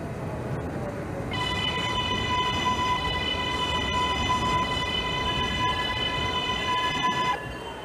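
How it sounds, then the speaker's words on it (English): An R188 subway train on the 7 local toward Flushing–Main Street in the Hmmsim 2 game, a loud continuous rumble of rolling wheels with a bright sustained whine rising in and cutting off near the end. "This is a Flushing Main Street bound 7 local train."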